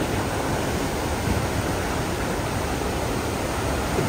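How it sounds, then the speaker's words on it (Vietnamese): Floodwater discharged from the Dầu Tiếng reservoir floodgates in Dầu Tiếng, Vietnam, roars in a steady, dense, unbroken rush, loud and close, with no voices. "Nước chảy trắng xóa nè mọi người."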